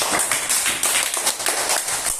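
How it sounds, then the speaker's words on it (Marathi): A classroom of third-grade children claps together for everyone, a loud, steady burst of many small hands filling the room for a couple of seconds. "टाळ्या वाजवा सगळ्यांसाठी"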